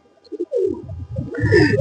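Shakibati number ten pencil-shape pigeon held in the hand, giving low, close cooing notes, followed by a rising burst of rustling and louder throaty sound toward the end.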